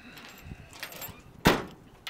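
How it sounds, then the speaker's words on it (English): A solid thump of a 1968 Pontiac Grand Prix trunk lid slamming shut midway through, preceded by faint handling noises and light rustling. "Trunk close is super easy."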